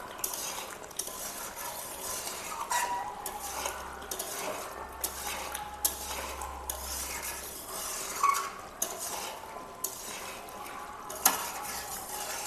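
Chicken curry meat being stirred and fried in a pot at home, a spoon scraping and clinking against the metal in an irregular rhythm over a soft, steady sizzle, close by and without any talking.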